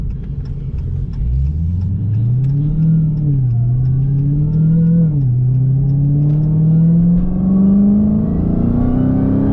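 A fast car accelerates hard from inside the cabin, its engine droning loud and steady and climbing in pitch through a brief dip at a gear change before rising again, with no talking over it.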